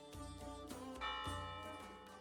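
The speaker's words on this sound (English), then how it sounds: "Bells began resonating all over the city center." Church-style bells ring out across a city centre, a steady wash of sustained, overlapping metallic tones that hold at an even level without a clear break.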